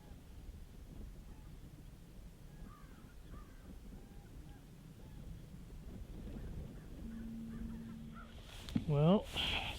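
Crows caw faintly and intermittently near a young bull moose carcass during a hunt on the South Saskatchewan River, with wind noise throughout and someone speaking briefly at the end.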